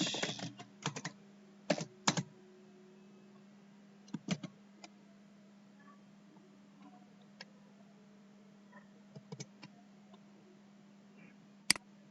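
A computer keyboard clicks under irregular typing, with scattered keystrokes and small bursts over a steady low hum, faint and close.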